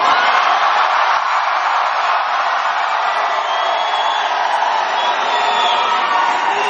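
A loud crowd at a Bernie Sanders rally in Miami, Florida cheers and roars continuously, a dense sustained wall of shouting and whoops with no pause.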